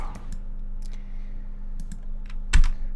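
Rapid computer keyboard hotkey presses while playing Red Alert 2 Yuri's Revenge, a scattered run of crisp clicks and taps at close range with no voices.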